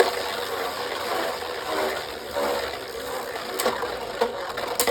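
Beyblade Burst tops DK Perseus and Cyclone Belfyre spin and clash in a stadium, a steady whirring scrape with sharp metallic clicks and knocks of contact near the end, close and fairly quiet.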